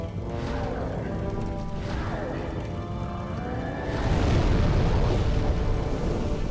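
The Flamelurker boss in Demon's Souls unleashes an explosion attack, a heavy roaring burst that grows louder partway through amid thick game noise, while a player talks over it.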